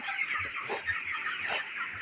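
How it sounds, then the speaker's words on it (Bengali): Broiler chickens twenty-six days old cluck steadily on a poultry farm, a dense overlapping chorus of many birds fairly close, with no voices. "আমাদের এই মুরগিগুলার বয়স হচ্ছে আজকে ছাব্বিশ দিন"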